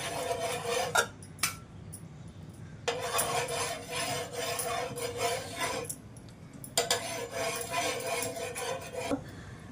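Oil being spread on a hot griddle: scraping and rubbing against the metal in two long passes separated by brief pauses, close and fairly loud with a gritty texture.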